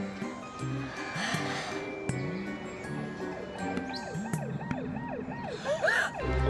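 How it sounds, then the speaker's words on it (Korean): A police car siren wails, rising and falling in repeated sweeps over steady traffic rumble, fairly close and loud throughout. "경찰차다!"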